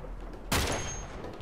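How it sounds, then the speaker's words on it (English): A single sharp gunshot in Uncharted 3, a loud crack partway through followed by a short decaying ring over quiet game ambience. "I shot him in the head!"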